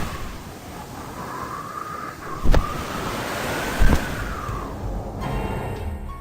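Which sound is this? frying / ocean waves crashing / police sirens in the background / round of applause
ocean waves crashing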